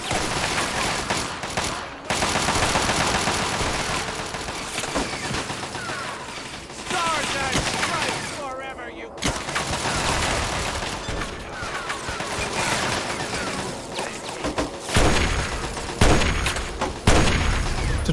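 Sustained automatic turret gunfire in Fallout 3, with dense bursts of shots and mechanical clatter rolling almost continuously, loud and close, with brief lulls and booming impacts.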